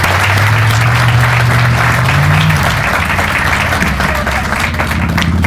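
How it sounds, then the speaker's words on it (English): Audience applause at a school prize night, dense sustained clapping from a large crowd filling the hall, loud and steady throughout. "Let's give a round of applause."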